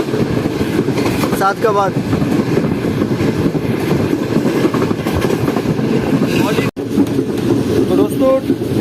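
The Karakoram Express, running from Karachi to Lahore, rumbles along the rails as it nears Sadiqabad station, a steady close rolling drone with wind buffeting, as someone speaks briefly.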